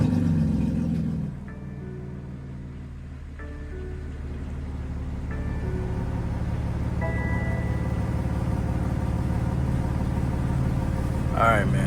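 A BMW G80 M3 Competition idles with a deep, steady exhaust rumble throughout, holding a constant low drone close by with a faint change in tone partway through.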